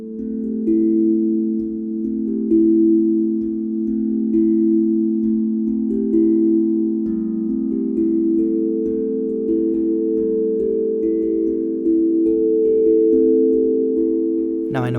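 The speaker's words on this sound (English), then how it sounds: "I'm going to record my handpan first" A handpan played with mallets gives sustained, ringing tones that hold steadily and shift gently between pitches, close and loud with no voices over them.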